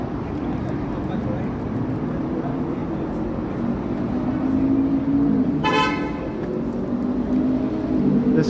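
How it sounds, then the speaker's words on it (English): A streetcar horn blares once, loud and brief, at a car straying onto the streetcar right of way on a Toronto street in the evening, with traffic rumble and city noise around it. "Streetcar driver honked to him, nope, you don't go that way."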